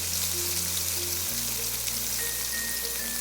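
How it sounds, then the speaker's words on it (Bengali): Paneer frying in a wok with a little oil and a spoon of ghee, a steady dense crackle and sizzle running throughout at a close, even level, with faint tonal hums underneath. "এবার এর মধ্যে আমরা পনিরগুলোকে ভেজে নেব।"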